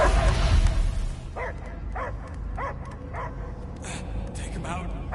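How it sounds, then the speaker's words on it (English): Dog barking and yipping in a scene from the film Guardians of the Galaxy, several short sharp barks spaced about half a second apart over a rumbling background, with voices heard. "I hear only barking."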